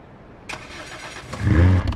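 A rally car engine from V-Rally 4 on Nintendo Switch cranks and fires, building to a loud low rumble near the end of a short burst, alone with no voices.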